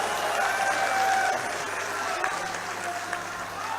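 A packed assembly hall breaks into sustained clapping, a dense even wash of applause for several seconds with faint crowd murmur beneath.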